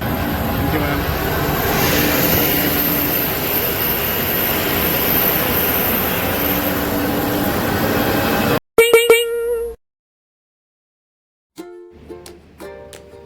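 A jet airliner's engine roars steadily nearby at an airport for about eight seconds, then cuts off abruptly, followed by a few short tones and clicks.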